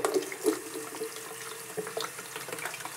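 Tap water runs steadily into a sink while a safety razor is rinsed in a bowl, with a few brief splashes and clinks standing out near the start over the continuous flow.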